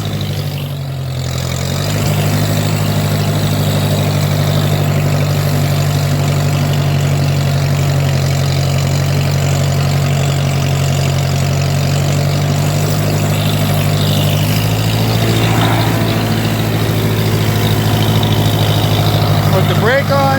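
A Jinma wood chipper engine idles steadily, a loud, constant low diesel-like rumble with a faint mechanical rattle that stays even throughout, with no other sounds breaking through.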